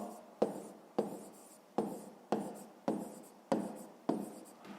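Pencil scratching across paper while working a fifth-grade maths exercise, a series of about eight strokes in a steady rhythm, each starting sharply and trailing off, close and fairly quiet.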